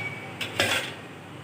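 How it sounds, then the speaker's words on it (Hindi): A metal pan is set onto a stove with two quick clanks, one light and one louder scraping clatter, followed by quiet room tone, during Eid sheer khurma cooking with desi ghee. "अब हमने पैन चढ़ा दिया है दूसरी साइड पे।"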